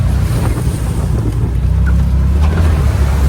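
Farm vehicle driving through a creek: loud, continuous rushing of water and engine rumble, with sloshing splashes throughout and wind buffeting the microphone.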